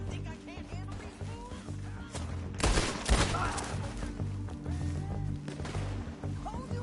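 Gunfire crackles in Red Dead Redemption 2, a burst of shots clustered mid-clip over a busy background of movement and game ambience, with voices around it.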